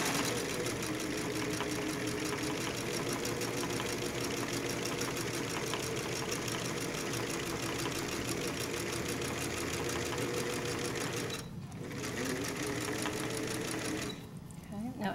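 A sewing machine stitches a side seam pocket at 5/8 seam allowance, running as a fast, steady, close mechanical whir that pauses briefly twice, with no talking.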